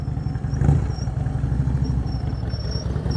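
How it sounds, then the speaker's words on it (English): A motorcycle idles during advanced slow-speed riding practice, its engine putting out a steady, moderately loud low putter with slight clatter and no clear revving. "Keep it loaded, you're idling."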